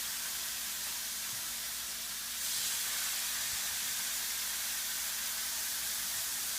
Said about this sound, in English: then we take our steaks, put them on the griddle